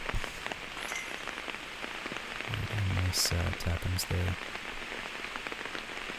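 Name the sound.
rain falling during a disc golf round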